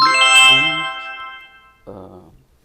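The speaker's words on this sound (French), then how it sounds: "mon téléphone va se mettre à sonner. Donc, la notification que la commande a été lancée" A phone notification ringtone announces a new restaurant order, a bright chiming melody that sounds loud and close, fades out, then returns briefly as a shorter second burst.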